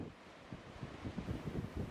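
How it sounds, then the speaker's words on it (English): Powerful Atlantic waves roar and surge at Slea Head, a low rumbling wash pulsing in short swells, with wind buffeting the microphone. "The waves are powerful, and at times the roaring sound is deafening."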